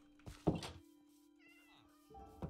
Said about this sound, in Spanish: Y aquí hay gatos.